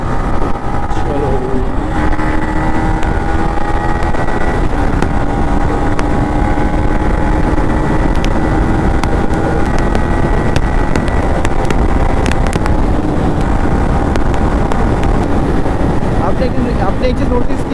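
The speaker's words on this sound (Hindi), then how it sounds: "चलो एक टॉप स्पीड दे के ही शुरू करते हैं इस मोटर ब्लॉग को।" A motorcycle ridden at top speed on a long highway ride, a loud, constant engine drone mixed with heavy wind rush that runs throughout without letup.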